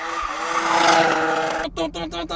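Car drifting at a racetrack after a full-speed handbrake turn, loud tire squeal and engine roar sweeping close, then breaking into choppy pulses as the slide continues.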